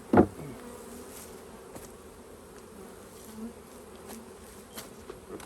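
Honey bees buzz around an open hive during a swarm cell check in Western Michigan, a steady soft hum with a sharp knock near the start and faint scattered sounds throughout.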